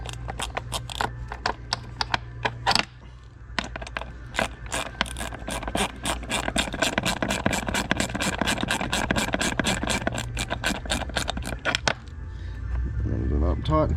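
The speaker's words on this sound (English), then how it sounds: "now I am going to be bolting this back on, the thermostat housing." A thermostat housing is bolted back onto a boat engine with a ratchet, loud rapid clicking in long bursts with brief pauses, close by.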